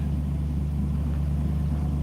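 Steady low drone of a 1972 Ford F250 with an FE engine and a fuel pump problem, running evenly and up close with no change in pitch or rhythm.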